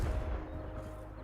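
A Confringo spell blast in the video game Hogwarts Legacy lands with a deep, booming rumble that hits hard at once and then fades over about a second.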